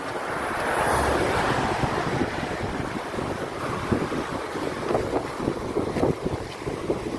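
Floodwater rushes through a swollen river near a small bridge, a loud, broad roar with wind buffeting the microphone and no speech.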